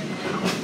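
Wilmington Western Railroad train running in the open air, a steady close rumble of the cars lasting under a second with no clear clatter beats.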